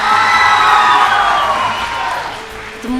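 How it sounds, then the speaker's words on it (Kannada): An audience at a children's dance reality show on stage cheers and whoops loudly as a crowd, a sustained roar of many voices that eases slightly toward the end. "ಸ್ಟೇಜ್ ಹೊಡಿರಿ ಚಪ್ಪಾಳೆ."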